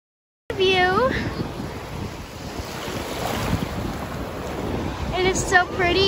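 Ocean waves surge and wash steadily along a shore, a continuous rushing roar with wind buffeting the microphone and faint chirps at the start and end.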